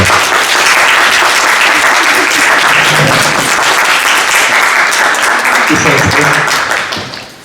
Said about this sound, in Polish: Wielkie brawa dla Pauli, proszę Państwa.